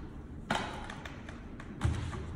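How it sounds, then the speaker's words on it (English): Unlocking latches on a European sliding door system made of four large panels, giving two distinct thuds about a second apart over a quiet room background. "I'm unlocking door systems right now."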